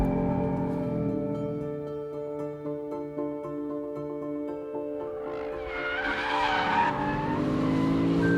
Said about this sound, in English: The engine is a lovely thing, it sounds fantastic and it does rev out